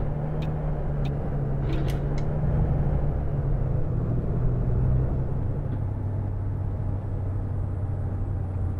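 A Neoplan bus engine in the Fernbus driving game drones as a steady low rumble with a constant hum, with a few faint clicks early on and no talk over it.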